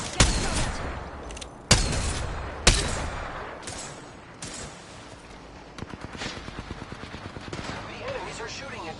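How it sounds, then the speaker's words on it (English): Enemy gunfire in Apex Legends: several sharp, loud shots and bursts, then a fast run of rhythmic automatic fire near the end, with a voice talking between them. "The enemies are shooting at me."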